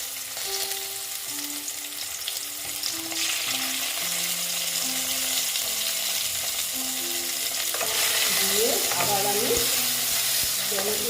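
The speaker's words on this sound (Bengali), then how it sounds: "আলুগুলো মাঝে মোটামুটি আমার ভাজা হয়ে গেছে এখন টমেটোটা দিয়ে দিচ্ছি" Potatoes and tomato for a drumstick chorchori fry in a pan with mustard and poppy seed paste, giving a steady, close sizzle with stirring scrapes. A soft melody plays underneath.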